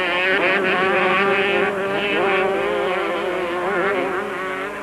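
Several motocross motorcycles, Honda and Kawasaki machines in a 1997 Super Series race, howl past with high, wavering engine whines that rise and fall together, loud and continuous with no talk.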